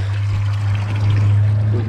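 Water flows steadily at a natural spring where people fetch water, a continuous close trickle and splash over a low steady hum.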